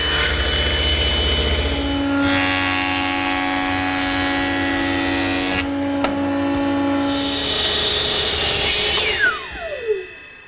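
A jointer machine runs with a steady high whine and hum as a tapered wooden chair leg for a chaise lounge is passed over it, then the motor spins down at the end.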